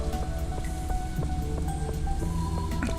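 Steady rain patters across the farm in Stardew Valley, a dense, even wash of drops broken by soft, regular tapping accents and faint tonal game sounds over the top.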